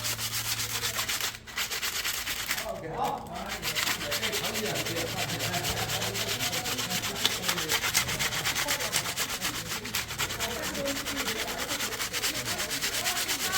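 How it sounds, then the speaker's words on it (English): Steady abrasive rubbing as nubs on a wooden hiking stick are sanded down, a continuous close scratching texture with a brief pause near the start and no talking. "I'll sand those down pretty good like that"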